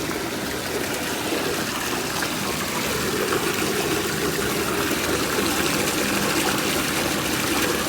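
Steady rushing water gushes from a running pump motor without pause, a continuous broadband splash close by with a faint mechanical hum underneath.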